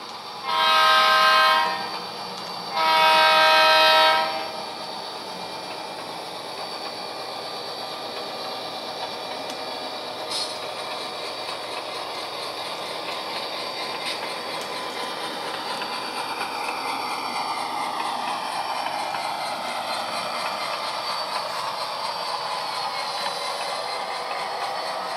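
Model trains run on a home layout with styrofoam snow-covered mountains, arriving into a yard: two loud sustained horn blasts at the start, then a steady rolling rumble of wheels on track that gradually swells.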